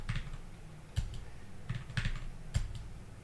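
A password is typed on a computer keyboard in a few scattered, quiet keystrokes with uneven gaps between them. No one speaks.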